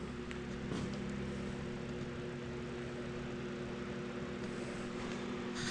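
A homemade shop heater runs with its fan on low, giving a steady, droning mechanical hum with a faint tonal whine that continues evenly throughout, fairly quiet and close.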